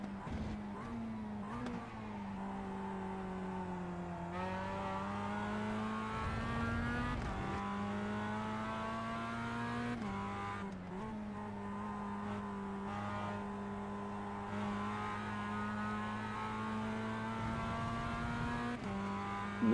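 A Mazda MX-5 race car during practice at Phillip Island, heard from inside: a loud, continuous engine drone that rises and falls in pitch through gear changes and corners, with no talk.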